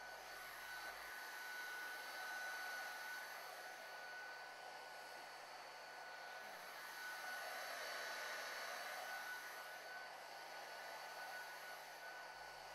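Heat gun with a reflector attachment, set to 230–250 °C, blows a steady, even hot-air whoosh with a faint whine, shrinking a molded cable transition part; continuous and unbroken, no voices.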